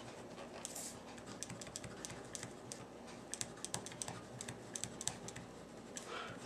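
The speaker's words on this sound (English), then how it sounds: "I'm going to go ahead and write "This is a review" Livescribe 3 smart pen writing on paper, faint, quiet scratching with small irregular taps and strokes, close up over a soft background hiss, no talking.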